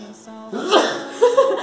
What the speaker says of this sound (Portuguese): Enquanto ele espirra.